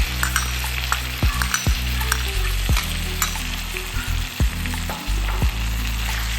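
Pork sizzles and fries steadily in a pan after ketchup is added, with a continuous crackle under repeated knocks of a spatula stirring against the pan.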